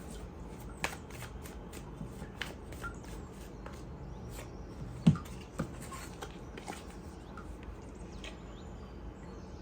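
Tarot cards are shuffled by hand in a steady run of soft riffling flicks, close and fairly quiet, with one sharper tap midway and no talking.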